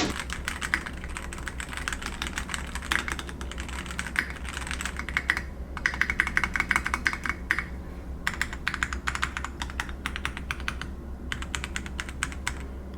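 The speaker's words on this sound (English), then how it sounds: "I would give you guys a sound test, but I'm not very good at typing." Typing on a Dareu computer keyboard in a desk-setup sound test: dense, rapid clacking keystrokes in irregular bursts with brief pauses, close and clear, with no talking.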